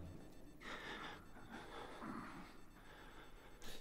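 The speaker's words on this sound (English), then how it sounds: "there was some banging and heavy breathing" Heavy breathing from the horror video game Outlast: quiet, ragged gasping breaths in a few uneven bursts over a low ambient hum.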